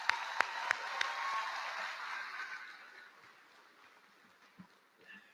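Applause from the audience at a Northeastern High School graduation ceremony for the class of 2024. Fairly loud, dense clapping opens with a few sharp claps, then fades steadily to sparse scattered claps.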